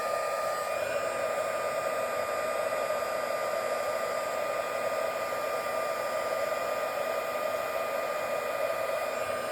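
A heat tool blows a steady, continuous whirring stream of hot air to melt embossing powder, with a constant motor whine close by and no talking.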